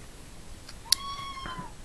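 A cat gives a single clear, fairly close meow with a rising then falling pitch in a quiet indoor room, followed by faint soft sounds.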